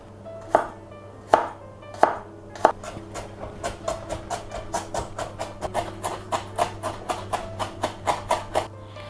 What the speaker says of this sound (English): Now we'll wash and cut some leek.